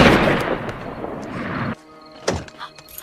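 A loud burst of noise from a film scene as a girl is shot, cutting off abruptly into near silence, followed by a single sharp thud a moment later.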